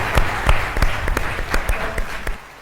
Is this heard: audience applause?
yes